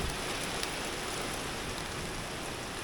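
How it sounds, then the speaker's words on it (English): Steady, dense rain pattering on a roof, a continuous close hiss of drops with no pauses. "that's pretty good rain coming down now. You can hear it on the roof in here"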